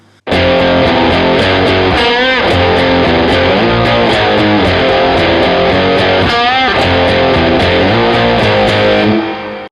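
Distorted electric guitar plays the loud, sustained chorus riff of a song in heavy chords, with two sliding bends in the middle, continuous for nearly ten seconds.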